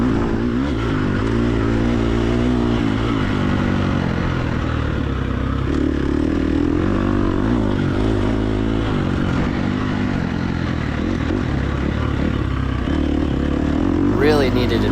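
A dirt bike races a hare scramble lap in the game TORCS, its engine droning and revving continuously and loudly throughout, with someone talking over it.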